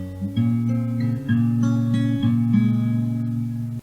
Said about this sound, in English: instead of this last note, you basically just play the 3rd string open